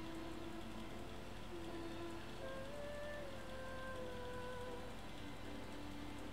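Steady rain falls in a Final Fantasy XIII-2 game scene, a soft continuous hiss with faint tonal hums drifting over it, quiet and unbroken throughout.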